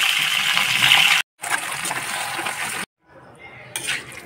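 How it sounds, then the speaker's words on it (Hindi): Green beans sizzling in hot oil, a loud, steady hiss broken by brief gaps as the pan is handled, then settling into a softer crackle. "तेल गर्म हो गया है तो सेम"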